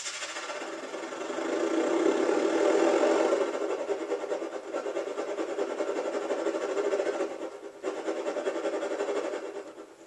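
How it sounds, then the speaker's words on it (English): Synthesizer noise passes through a bandpass filter, giving a hissing, buzzy band of sound that pulses under an envelope rhythm, swelling then holding steady with a brief dip near the end. "let's select a bandpass to make the noise more interesting"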